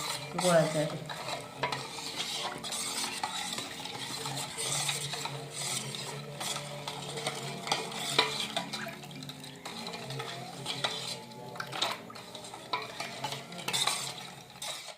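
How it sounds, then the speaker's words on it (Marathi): Jaggery melts in a pan as it is stirred continuously, a close scraping and rasping of the spoon against the metal over a soft sizzle, with rhythmic strokes that keep going and no talking. "एक पंधरा एक मिनटं तरी लागली ढवळून ढवळून गुळ आता आपला विरघळलेला असा"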